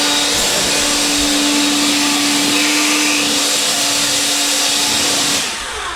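A powerful Lefeli blower runs on its low setting, clearing wood dust in a timber workshop. It gives a loud, steady, close rush of air for about five seconds, then eases slightly at the end.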